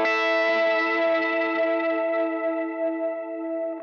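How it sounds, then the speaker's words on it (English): Electric guitar on the bridge pickup through overdrive, a sustained chord ringing out with a long reverb and echo tail, slowly fading, loud and close with no talking. "We want kind of a long tail and some overdrive to kind of carry that sound over so it doesn't die out right away."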